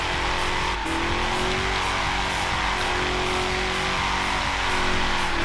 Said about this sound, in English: rather than doing burnouts in the middle of the road all day